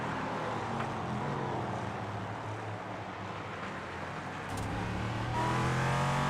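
Race cars lapping the Mid-Ohio Sports Car Course in a sim racing game, a steady engine drone and whine holding throughout, slightly louder toward the end, with no talk over it.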